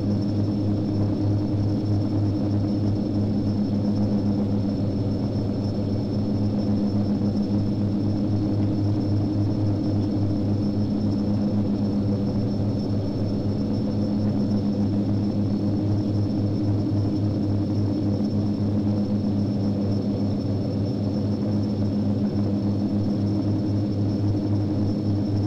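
Steady, loud drone of a Q400 turboprop airliner during takeoff in a flight simulator, with an even propeller hum and tonal engine whine holding constant throughout, with no voices.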